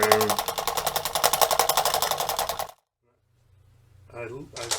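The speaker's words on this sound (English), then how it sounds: "if you crank this handle, you can hear it really kind of rattling around" A hand-cranked 1920s Japanese massager of wood and metal rattles loudly in a fast, even clatter for a few seconds, then stops; a voice follows briefly afterward.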